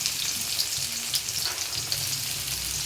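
Onions frying in a little oil for a bottle gourd and egg curry, a steady close sizzle with soft crackles throughout and no talking.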